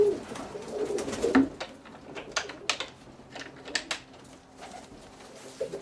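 Roller pigeons coo inside a loft, a steady murmur of overlapping low calls with a few sharper rustles and taps, close by and with no one talking.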